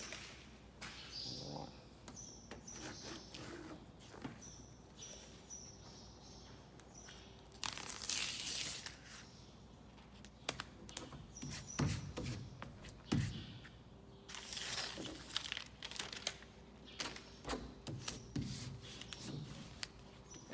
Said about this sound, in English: Remove that backing paper